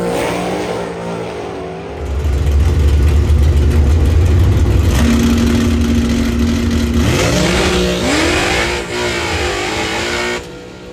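A supercharged Ford GT500 launches hard down a drag strip, its loud engine roaring close by with a deep, sustained rumble that climbs in pitch through quick upshifts, rising and dipping with each gear change.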